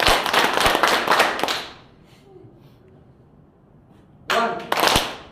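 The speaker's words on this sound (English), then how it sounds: "Clapping." A group clapping in unison during a training-session energizer game: a fast burst of sharp claps, a pause of near silence, then another short burst of claps.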